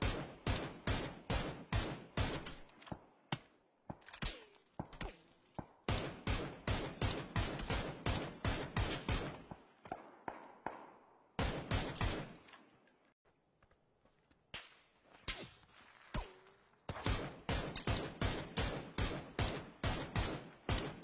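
Rapid bursts of video game gunfire crack out in a dense, steady rhythm, broken by short pauses and resuming loud and close, with no talk over them.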